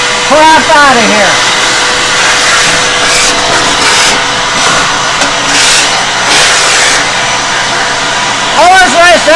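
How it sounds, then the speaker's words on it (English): A vacuum cleaner runs loudly and steadily while the inside of a ComfortBilt HP22 pellet stove is cleaned out, with a brief swell as the nozzle works around, and a voice talks over it at the start and end. "You just kind of brush towards your vacuum."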